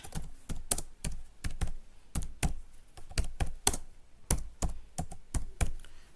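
Typing on a computer keyboard in a word-processing session, with clusters of crisp key clicks landing in uneven bursts and short pauses, close and fairly loud, with no talking.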